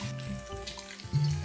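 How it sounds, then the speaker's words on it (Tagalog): Water pours from a tap into a pan of pork menudo, a short splashing gush with a steady running-water hiss and a brief rise at the end. "You put water."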